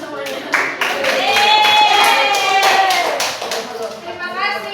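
A primary school class at a peer-teaching science lesson claps together in rhythmic, evenly spaced claps while children's voices chatter and call out loudly over the clapping.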